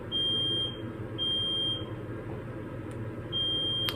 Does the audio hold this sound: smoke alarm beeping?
yes